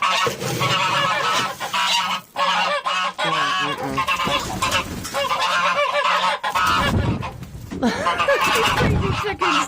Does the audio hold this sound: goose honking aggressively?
yes